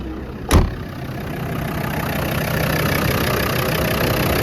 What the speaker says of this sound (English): Very smooth running engine and no smoke out of the tailpipe.